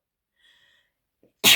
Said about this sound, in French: Pardon, je crois que je vais éternuer.